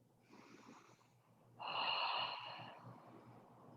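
Ujjayi yoga breathing: a soft breath followed by a louder, throaty, ocean-like hiss, heard up close in a quiet room.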